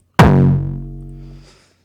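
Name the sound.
hardstyle kick drum with high-pass filter at 175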